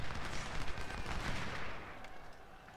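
Musket volleys from a Civil War battle in the strategy game Ultimate General: Civil War, with dense, overlapping crackling gunfire and distant booms that roll continuously at a moderate level.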